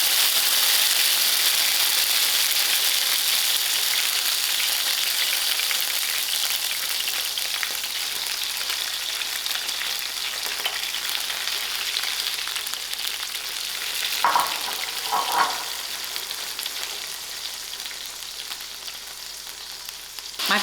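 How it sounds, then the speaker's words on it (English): Prawns for seafood paella frying in hot oil, a loud, continuous close-up sizzle that slowly eases over about twenty seconds, with a couple of brief stirring scrapes near the end and no talking. "Now my oil is hot. I'm going to partially fry out"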